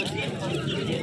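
Desi hens clucking amid a busy animal market in Indore, a dense steady crowd din with voices talking throughout and the birds partly buried in the noise.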